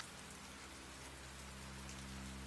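Steady rain falling outside a house on muddy ground during a tabletop role-playing game, a dense even patter on surfaces throughout with no voices.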